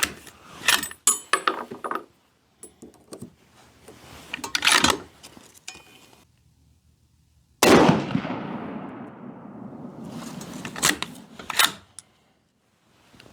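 A Savage rifle fired while sighting in gives one sharp, loud report with a long ringing decay, preceded by scattered mechanical clicks and handling noises.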